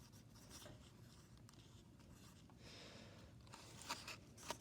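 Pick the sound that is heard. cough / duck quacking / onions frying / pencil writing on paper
pencil writing on paper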